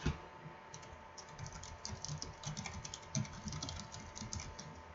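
Soft, rapid keystrokes on a computer keyboard type a chart title, an uneven stream of light clicks with a slightly louder tap near the end, quiet and close with no speech.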